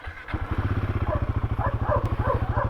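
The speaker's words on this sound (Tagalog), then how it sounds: "Unang andar." A 2024 Royal Enfield Guerrilla 450 motorcycle starts for the first time, then settles into a loud, close, steady idle with an even rapid pulsing beat and some faint mechanical clatter.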